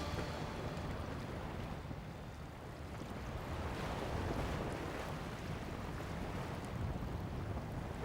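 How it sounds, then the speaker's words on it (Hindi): Ocean waves wash on without pause in a broad, steady roar of surf mixed with some wind noise and no speech. "किस कदर सुकून है, सिर्फ समंदर की आवाज है।"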